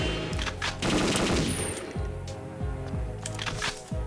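Automatic gunfire in Perfect Dark on the Nintendo 64, heard during an air base espionage mission: a steady rattle of loud, rapid shots over game music, with brief gaps between bursts.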